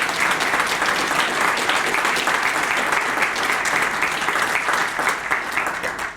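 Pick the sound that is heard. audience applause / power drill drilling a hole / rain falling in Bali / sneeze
audience applause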